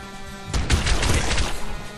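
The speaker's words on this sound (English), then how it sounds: "Biggest explosion so far." Explosion in the video game Nuclear Throne: a sudden loud crashing burst about half a second in, followed by a dense rumbling, crackling roar that holds for over a second before easing off.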